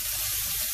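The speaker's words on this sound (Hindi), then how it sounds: "और इसको भी मैं थोड़ा सा फ्राई करूँगी।" Garlic, ginger and green chili paste frying in hot oil while mutton yakhni pulao is cooked, giving a steady, close, bright sizzle with no voices.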